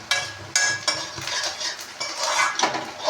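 A metal spoon scrapes and clinks against a pan while onions fry over medium flame, several sharp strokes repeating irregularly at close range over a soft sizzle, with no voices.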